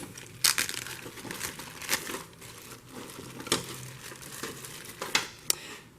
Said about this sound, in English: if I can get this bag open